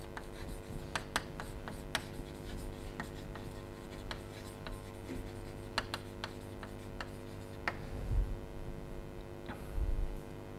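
Chalk or marker writing on a board during a logic lecture, faint scattered taps and short strokes over a low room hum, with no talking.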